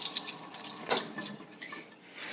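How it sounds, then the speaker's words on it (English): Tap water running from a kitchen faucet over cured salmon gravad lax to rinse off salt and dill, a steady close splashing stream with small surges as the fish is moved under it. "put it under the faucet"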